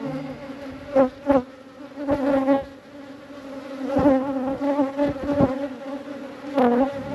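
Honey bees buzz steadily around an open backyard hive during a brood inspection, a close, continuous hum with short louder swells as bees pass near.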